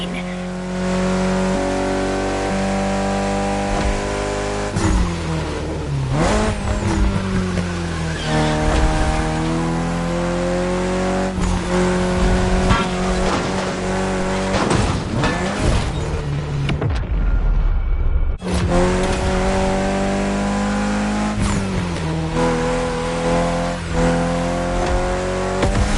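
Mitsubishi Lancer Evo X engine in The Crew Motorfest, a loud steady drone with rising and falling revs and gear shifts, a brief dropout near the end, with voices and game music layered over it.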